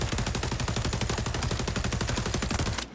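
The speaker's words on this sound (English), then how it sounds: "come in here, shoot at a wall. Just press left trigger, right trigger, shoot." Rapid automatic gunfire in XDefiant rattles out as one continuous, loud, evenly spaced burst aimed at a wall, cutting off abruptly at the end.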